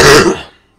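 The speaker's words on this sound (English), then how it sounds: "a bit of a cough at the moment" A single short, harsh throat clearing cough from a man with a leftover flu cough, loud and close, fading out quickly.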